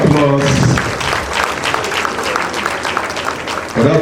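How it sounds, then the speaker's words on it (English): Steady crowd applause at a pharmacy induction ceremony, with a voice heard briefly at the start and again as the clapping ends. "Please, can we give another round of applause"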